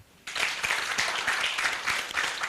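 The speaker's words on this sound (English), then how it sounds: "you're clap for Gidenji." An audience at a KMPDU annual general meeting at Abai Lodges breaks into sustained applause for Dr. Gidenji, a dense wash of many clapping hands that starts abruptly and holds steady.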